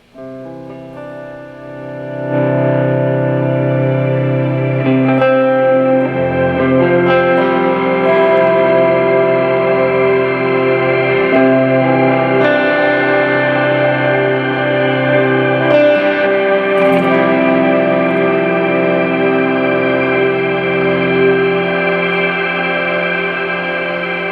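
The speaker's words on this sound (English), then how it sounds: "we switch over to the shimmer, and it sounds like this" Guitar chords through a shimmer reverb pedal, bright octave-up tones swelling and ringing out in a long, lush wash with no talking.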